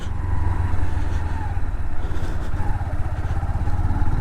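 A motorcycle ridden on a calm road outing, its engine a steady low throbbing drone with wind rush, continuous and close.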